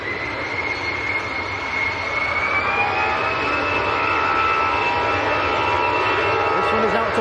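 An EasyJet airliner takes off at Manchester Airport on a crosswind day, its jet engines a loud continuous roar with a rising whine that holds steady throughout.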